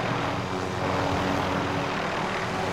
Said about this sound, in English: Helicopter. I'm gonna say.